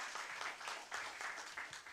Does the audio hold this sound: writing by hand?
no